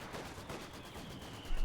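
Artillery and gunfire from a battle in the video game Company of Heroes 2 rumble on steadily as a dense wash of distant shots, swelling with a louder low burst at the end.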